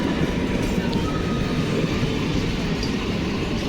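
A new electric MEMU train of two coupled units stands and moves at Kanaibazar station, giving a continuous close rumbling roar of rolling stock with a faint tonal hum and no clear speech.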